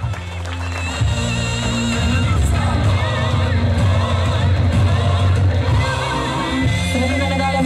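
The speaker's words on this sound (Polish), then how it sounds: "Brawa!" Crowd cheering and applause at the Odra Cup 2009 medal ceremony for a second-place silver medal crew, a loud, continuous roar of clapping, whoops and yells filling the whole clip.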